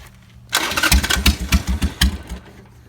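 A motorcycle engine fires up after a quiet moment and is blipped through a series of rhythmic revs, throaty and close, each pulse rising and falling before it settles back toward idle.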